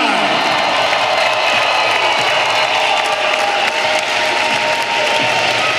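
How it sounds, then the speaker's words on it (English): Large arena crowd applauding and cheering steadily after a women's 135 lb championship fight, a dense continuous wash of clapping that stays loud throughout. "how about a round of applause for these ladies throwing down"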